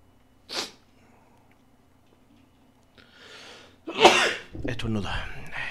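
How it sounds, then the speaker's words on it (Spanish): A single sharp, forceful human sneeze bursts out near the start, followed after a pause by breathy sniffing and a loud throat-clearing snort, then a voice begins talking. "Estornuda."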